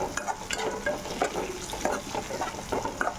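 Stirring in a pan of frying ingredients with turmeric added while cooking gongura fry, a steady sizzle broken by repeated spoon scrapes and clinks in an irregular rhythm, close and alone.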